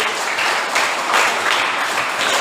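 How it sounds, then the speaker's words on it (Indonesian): Students in a classroom clap together in brisk, dense applause that holds at an even, fairly loud level throughout. "beri aplaus buat teman-teman."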